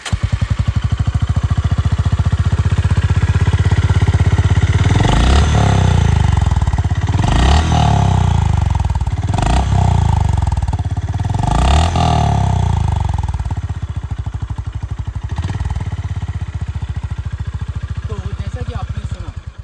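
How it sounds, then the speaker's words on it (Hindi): A Honda CB350 RS motorcycle engine idles with a steady throb, then revs sharply four times in a row, each rise and fall close and loud. "तो मैं आपको अभी इसका एग्जॉस्ट नोट सुनाता हूँ।"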